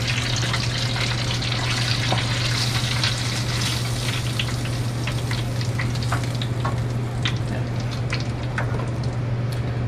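Chicken frying in very hot oil, well over 350 degrees, makes a loud, dense, continuous crackling sizzle with scattered pops, close up and uninterrupted for the full ten seconds, with a steady low hum beneath and no talk.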